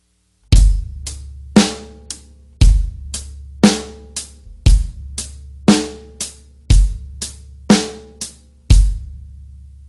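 Drum groove played with the right hand only on hi-hat and snare, with no left-hand notes: evenly spaced sharp hits with a solid low thump on the main beats, about fourteen strikes over ten seconds, close and loud with no talking.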